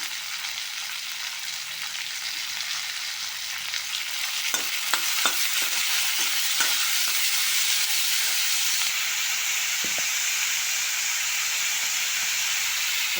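Onions frying with salt in a pan on a home stove, a steady loud sizzle running throughout with occasional stirring clicks.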